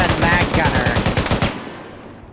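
Rapid bursts of FN MAG machine-gun fire in a tactical shooter game, a dense string of loud rhythmic shots for about a second and a half, then a fading echo tail.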